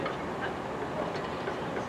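A fast British Class 387 electric train passes through a London-area station, a steady loud rush and rumble of rolling wheels and rail noise throughout, no voices.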